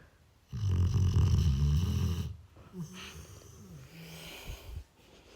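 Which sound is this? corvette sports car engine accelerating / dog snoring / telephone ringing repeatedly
dog snoring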